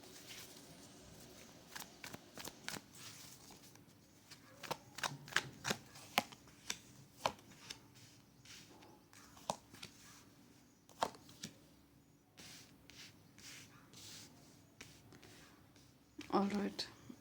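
Tarot cards being shuffled and drawn: a run of soft, crisp card flicks and slaps in uneven bursts, close and fairly quiet, with a louder rustle near the end.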